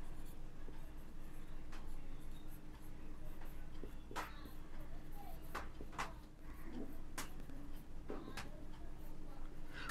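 A pen scratches across paper during an accounting lesson in a written ledger, with short strokes and taps spread over the stretch, close and soft, while a voice talks faintly over it.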